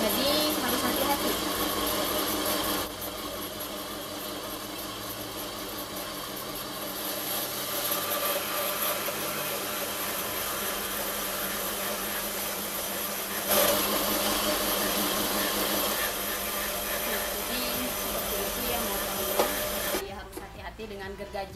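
Electric saw cutting through a longer piece of wood, a steady harsh buzzing grind that runs loud and close for the whole stretch, stopping abruptly near the end.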